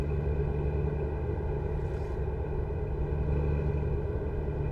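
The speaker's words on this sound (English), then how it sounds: "This engine does sound nice with the torque converter" Steady, even rumble of a truck engine running through a torque converter in American Truck Simulator, droning low and constant with no talk over it.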